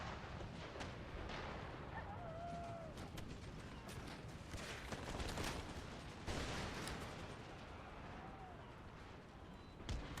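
Cannon fire crackles through a battle in the video game Empire Total War, dense overlapping booms and rattling volleys at a distance, faint in level, with a voice briefly heard.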